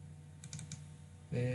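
A file name typed on a computer keyboard in CAD software: a short quick run of four or five light key clicks, close and quiet, followed by a louder sound at the end.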